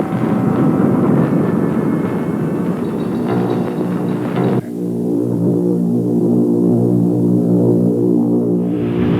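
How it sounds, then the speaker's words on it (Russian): An atomic bomb carrier aircraft taking off, its engines roaring loudly and steadily, a heavy throbbing drone that abruptly shifts to a lower, smoother hum partway through. "Самолет-носитель атомной бомбы вылетает на выполнение боевого задания."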